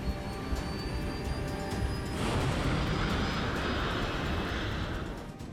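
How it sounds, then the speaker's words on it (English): A commercial airliner accelerating down the runway and lifting off, a steady loud broadband engine roar that swells and thickens midway and holds strong before easing slightly at the end, with no talk. "When the plane lifts off, Stiley's sense of doom gets worse."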